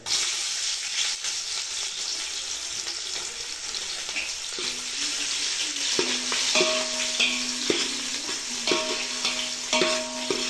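Sliced onion sizzles and fries steadily in a pan for chicken biryani, a broad hiss with occasional stirring scrapes and clinks, close and continuous with no talk.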